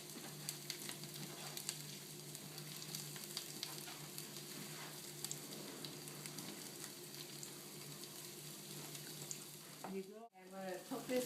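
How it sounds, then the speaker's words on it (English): Cauliflower sautéing in a hot pan on medium-high heat, a faint steady sizzle and crackle close by, ending with a brief clatter of movement near the end. "Alright, ready to saute the cauliflower."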